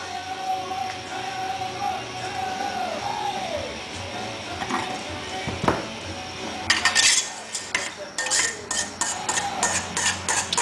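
Boiled red potatoes are tipped from a colander into a pot in a home kitchen, with clinks and knocks of metal cookware. A quiet stretch comes first, then several close, irregular rattles toward the end.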